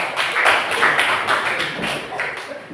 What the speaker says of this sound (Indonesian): aplaus Mas untuk teman kalian